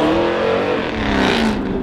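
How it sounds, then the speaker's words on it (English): A Dodge Hellcat revs loudly and close by, its engine note swelling and holding steady for about two seconds, with no one talking over it. "That's a hellcat?"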